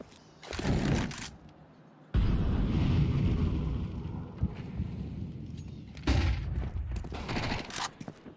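AK rifle fire in a Counter-Strike professional playoff match, with loud bursts of automatic shots near the start, middle and end, separated by rumbling mechanical game noise.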